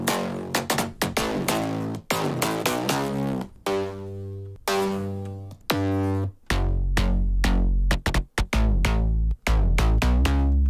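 Three linked future house bass synths play dry with no effects. Thick, buzzy sustained notes are cut into choppy rhythmic stabs and held runs, loud and close with deep low end, with no voices.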